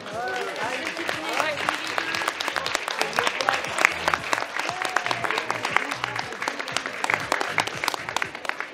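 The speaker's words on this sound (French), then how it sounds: "Je vous demande d'applaudir Chouki." Audience at a dog show claps continuously and fairly loudly after a Golden Retriever is presented, with a few voices mixed into the applause.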